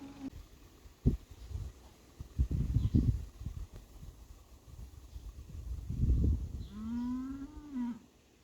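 Cattle on a French dairy farm being herded along a road, lowing several times at middle distance with one long, drawn-out moo near the end, over soft wind and outdoor ambience.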